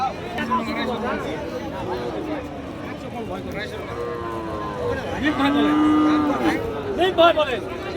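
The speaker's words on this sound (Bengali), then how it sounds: "মোটা আকারের একটা ষাঁড় গরু।" A large, heavy bull bellows at a busy cattle market near a border, with several drawn-out moos rising over close conversation and crowd chatter as buyers and sellers haggle.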